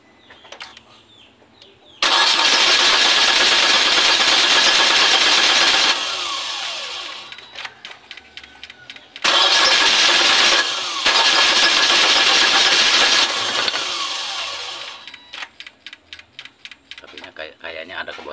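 A Nissan Grand Livina with hard-starting trouble and a fuel-pressure gauge fitted cranks at length in two loud, sustained bursts of roughly four seconds each. Between and after the bursts come quieter clicks and mechanical rattles, but the engine never catches.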